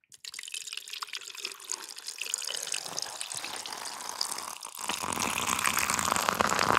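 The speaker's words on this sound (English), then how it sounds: "Time for the pour." Liquid is poured in a close, continuous stream that grows louder and fuller as it goes, with no talking.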